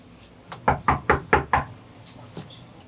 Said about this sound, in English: Knock that door.